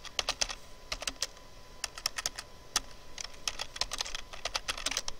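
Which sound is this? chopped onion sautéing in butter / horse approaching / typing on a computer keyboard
typing on a computer keyboard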